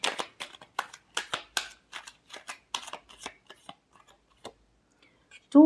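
Tarot cards being shuffled by hand, a series of crisp riffling snaps in quick bursts that thin out and fade, followed by a short vocal sound at the end.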